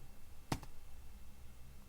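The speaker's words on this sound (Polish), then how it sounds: "Klikamy guzik Enter" A single sharp click of the Enter key on a computer keyboard, close and brief, over a quiet room hum.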